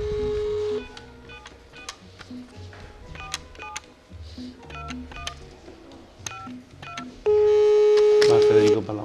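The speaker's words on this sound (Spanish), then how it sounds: "Vamos a llamar por teléfono a la persona que le ha tocado el plato" Telephone being dialed during a live interview call, a series of short keypad tones in irregular bursts over a steady hum, ending in a loud sustained ringing tone.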